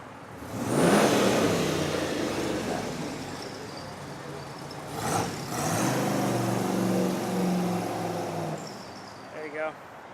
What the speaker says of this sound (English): The Pantera's leaving.